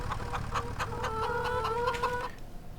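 Chickens cluck repeatedly in a survival video game, a steady run of sharp fowl calls with tonal squawks layered over a low background hum, close and fairly loud before fading near the end.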